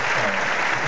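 Audience applause for the musical director at a live concert show in Argentina, a dense, steady clapping that fills the whole short moment at fairly loud level.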